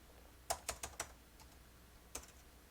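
Keys clack on a computer keyboard: four quick, crisp taps in a row, a pause, then one more, close and fairly quiet in a still room.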